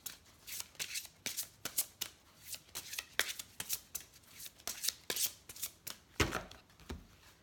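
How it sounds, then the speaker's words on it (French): Tarot cards being shuffled and drawn, with a steady run of crisp, papery riffles and snaps close up and fairly quiet, followed by a couple of sharper flicks near the end. "je vais tirer une ou deux cartes peut-être du chakra du cœur"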